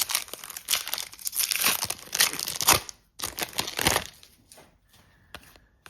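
Foil packs of 2024-25 Tim Hortons hockey cards are torn open with loud, close crinkling and ripping in quick bursts, separated by short pauses, and no talk.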